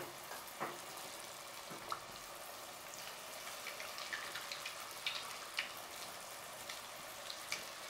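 Fataya pastries frying in oil in Senegal, a steady close sizzle with scattered small pops and crackles throughout, no voices.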